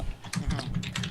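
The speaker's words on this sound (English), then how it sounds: "Phoenix, I can hear you typing like really loud" Rapid, loud clattering of keys on a computer keyboard, a dense run of clicks picked up close by a microphone during an online tabletop game session.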